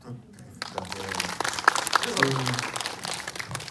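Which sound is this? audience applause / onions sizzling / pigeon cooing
audience applause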